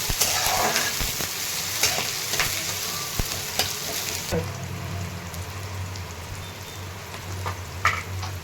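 Curry leaves, onion and chili frying in hot oil for poha, a steady close sizzle with clicks of stirring, louder for the first four seconds and then softer but still continuous.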